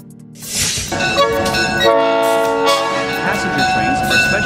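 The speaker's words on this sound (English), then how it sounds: "Passenger train." A passenger train passes close by, a loud horn-like tonal blast over a rolling rumble that holds steady for several seconds.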